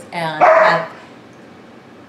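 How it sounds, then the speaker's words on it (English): A pet dog barks indoors, one close, loud bark that trails off quickly, partly overlapping a person speaking briefly. "Sorry, that's my dog."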